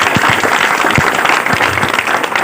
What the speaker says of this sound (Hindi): एक बार जरा तालियां बजाकर रफीक का हौसला है।